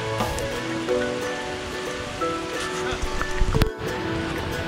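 Heavy rain pours at Bondla wildlife sanctuary in Goa, a steady dense hiss of water on surfaces throughout, with faint indistinct voices and a brief louder clatter near the end.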